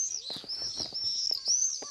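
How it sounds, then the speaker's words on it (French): Birds sing in a park in an Eric Rohmer film, a steady high chirping and warbling close by with a few faint, muffled knocks underneath. "le chant des oiseaux, dans un parc, loin de la ville"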